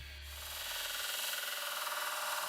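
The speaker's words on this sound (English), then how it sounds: "Once I got my longboard cut out with my jigsaw" A jigsaw cuts out the shape of a wooden longboard deck, a steady, loud buzzing whine that builds over the first second and then holds with a fast rhythmic chatter. No one speaks.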